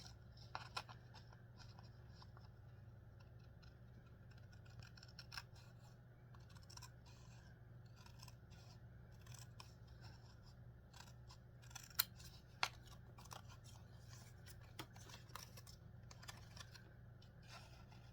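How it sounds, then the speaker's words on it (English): Scissors snip around the outside of a paper cutout, with faint, sparse cuts and light rustles close by over a steady low room hum, with no talking. "I'm gonna scissor around the outsides, and we'll use the X-Acto knife on the inside."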